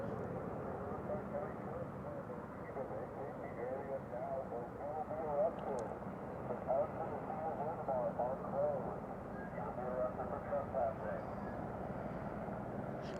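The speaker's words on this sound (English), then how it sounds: "Why do they have to bring a whole fucking chopper?" A helicopter flies over a closed park, its steady rotor and engine drone filling the air continuously, while voices talk over it.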